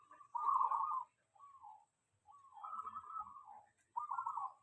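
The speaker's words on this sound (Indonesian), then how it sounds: "Jadi perkutut lainnya itu pada bunyi seakan-akan ditarik oleh Rawit." Perkutut zebra doves make soft, rolling coos in three or four short phrases broken by brief pauses, fairly faint and with no talk.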